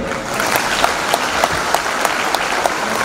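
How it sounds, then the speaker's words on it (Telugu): An audience at a talk on home libraries claps steadily, a dense, even wash of applause held at full strength from start to finish. "చప్పట్లు కొట్టండి."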